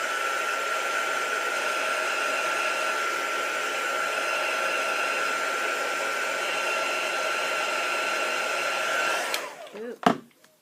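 A hair dryer blows steadily over mixed media artwork of whimsical birds, a loud continuous airy whir that holds for about nine seconds before cutting off with a brief clatter.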